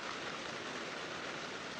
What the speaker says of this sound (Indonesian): Ini juga nih gemercik tuh, guys.